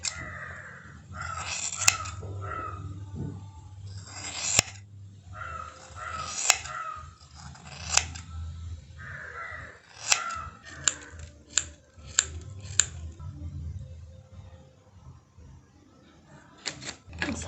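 Scissors snip hair along a comb in a series of close, crisp cuts, some single and some in quick clusters, between rustling handling sounds.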